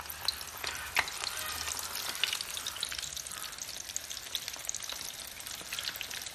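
Chicken pieces deep frying in hot oil for homemade KFC-style chicken, a continuous close crackling sizzle with scattered sharp pops, steady and moderately quiet with no talking.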